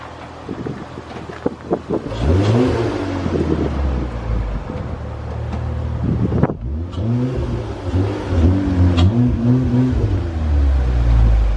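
2006 Acura TL engine after a clutch master cylinder repair, idling and revving loudly up close with rising and falling engine tones and repeated swells, under heavy wind-like noise.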